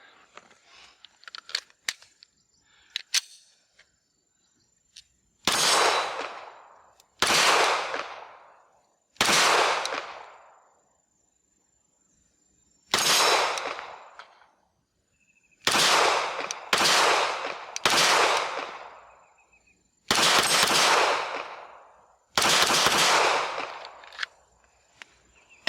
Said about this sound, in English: it surprisingly shoots pretty well